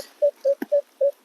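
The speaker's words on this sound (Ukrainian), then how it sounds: "Ну що ж, спіймав сигнал." A Minelab X-Terra Elite metal detector emits a steady run of short, evenly spaced beeps at a repeating pitch, clear and close, with one brief click between them.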